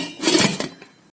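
A metal lid is set onto an idli steamer pot, giving one brief metallic clatter that rings and fades quickly before silence.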